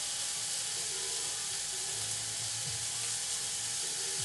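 Tuna steak searing on a grill gives a steady, close sizzle and hiss that holds even for the whole stretch, with a low background rumble and no talking.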